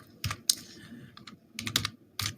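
Keys tapped on a computer keyboard while a captcha is entered, giving light, irregular clicks in small bursts, close and fairly quiet, with no talking.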